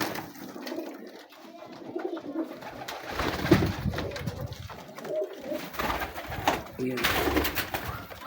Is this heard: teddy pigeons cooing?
yes